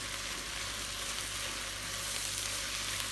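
Half a kilo of minced veal fries in oil with softened, nearly cooked onions, giving a steady, even sizzle that is close and continuous, with no voices.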